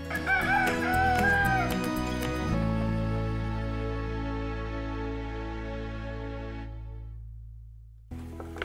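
Backyard chickens cluck and a rooster crows up close in the first couple of seconds. A sustained tonal drone then takes over and fades away before a brief return at the end.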